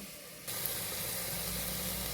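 Hot water poured into a simmering vegetable kurma, starting with a faint background and then jumping to a loud, steady steaming hiss that holds to the end.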